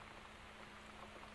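Rain falling in the video game Seiklus, a soft, steady hiss of patter with no break, quiet and even from start to finish.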